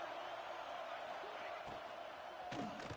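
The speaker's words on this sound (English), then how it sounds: "listen to this crowd noise. This stadium is vibrating." Stadium crowd at a college football game between Notre Dame and Clemson, a steady broad roar of many voices filling the whole span, with a few brief sharper bursts and cheers rising near the end.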